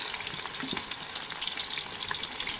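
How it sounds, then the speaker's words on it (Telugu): Dense crackling sizzle of bitter gourd pieces deep-frying in hot oil, steady and close, with faint bubbling throughout. "ఇప్పుడు డీప్ ఫ్రై కోసం కొంచెం కొంచెం ముక్కలు ఆయిల్లో వేసుకుందాం"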